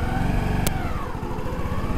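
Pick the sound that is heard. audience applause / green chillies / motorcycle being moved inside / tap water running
motorcycle being moved inside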